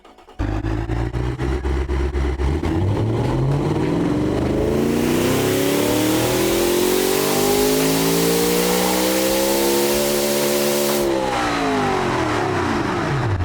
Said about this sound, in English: Okay, let's do a pull.